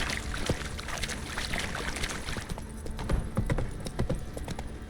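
Roach, the horse in The Witcher 3, trots along with a quick, steady clip-clop of hooves, fairly close and moderately loud over a busy game ambience.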